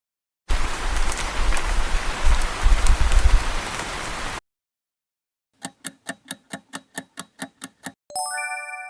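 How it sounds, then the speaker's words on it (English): Rain pours steadily for about four seconds, a dense close hiss of drops hitting a surface, then stops; a quick series of ticks and a chime follow. "Rain."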